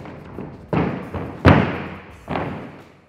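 A gymnast lands a piked back tumble, giving several heavy, close thuds on the floor, with the loudest impact in the middle and no talking.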